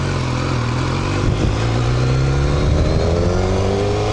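An S1000R motorcycle being ridden, its engine droning steadily and rising in pitch as it accelerates, with constant wind rush over the top throughout.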